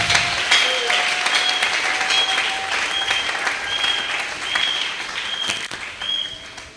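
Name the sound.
church congregation applauding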